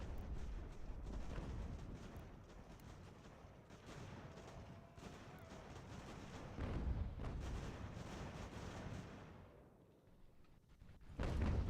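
Artillery fire in the Ultimate General: American Revolution strategy game, a quiet, continuous low rumble of distant cannon bombardment that rolls on without distinct separate shots, fading slightly near the end before a closer thump.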